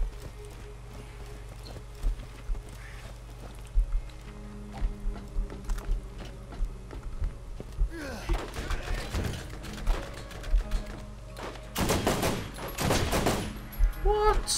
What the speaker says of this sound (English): And I got my machine gun.